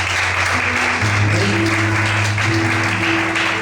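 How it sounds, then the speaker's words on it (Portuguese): A church congregation applauds continuously, a dense, steady wash of clapping at close range with a sustained tonal music or organ drone running beneath it. "Vamos aplaudir o Senhor"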